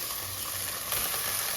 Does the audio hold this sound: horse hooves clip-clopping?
no